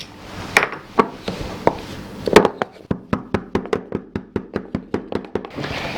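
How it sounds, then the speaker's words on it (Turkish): Garlic and a teaspoon of salt pounded in a mortar for a Turkish tarmer soup, giving a steady run of sharp, close knocks, irregular at first and then settling into an even rhythm of about three strikes per second. "sarımsağımızı burada döveceğiz"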